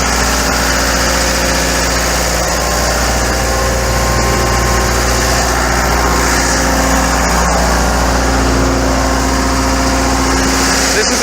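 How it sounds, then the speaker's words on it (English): Rebuilt Putzmeister TK40 concrete pump running on a job site, a steady loud engine drone with constant mechanical vibration and a few faint clicks throughout, close by. "I'm going to show you the pump running right now"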